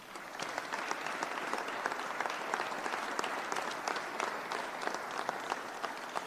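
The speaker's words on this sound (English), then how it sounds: "please give a round of applause" Steady, moderately distant applause from an audience at a budget signing ceremony with Governor Healey, a continuous even wash of many hands clapping throughout.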